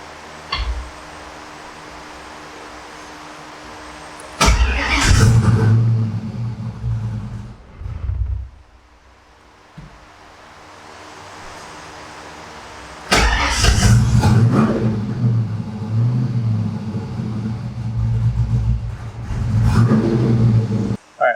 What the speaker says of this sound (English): so it starts up, but it doesn't want to stay idling